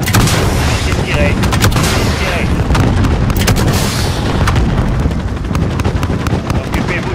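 A helicopter strike in Call of Duty Modern Warfare brings dense, continuous gunfire and heavy booming explosions, loud and close throughout, with radio-style voices talking over the battle.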